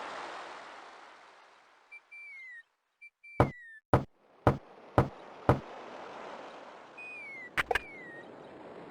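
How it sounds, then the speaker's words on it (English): Door knocking in the video game King's Quest 6: five sharp, evenly spaced knocks, then two quick knocks later, over soft background music with brief rising tonal blips. "I want him to knock on the door."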